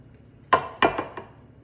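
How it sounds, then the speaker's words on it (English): Blueberry biscuit batter is dolloped into a pan, heard as three or four sharp utensil knocks against the pan at uneven intervals over a quiet kitchen background. "you're just gonna pour this batter in there"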